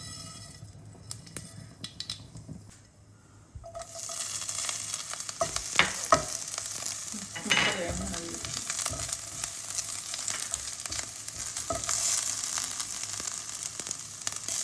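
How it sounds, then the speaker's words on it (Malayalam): Mustard seeds and crushed spices fry in hot oil in a pan for a chicken dish. After a quiet start, the oil bursts into a steady sizzle with occasional utensil clinks and stirring scrapes. "ആദ്യം കടുകിട്ട് പൊട്ടിക്കഴിയുമ്പോൾ ചതച്ച് വെച്ചിരിക്കുന്ന ഓരോന്നായിട്ട് ഇട്ട് കൊടുക്കുക."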